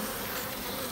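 Honey bees from an opened hive with empty comb drone in a dense, steady, loud buzz close by, continuous without pauses.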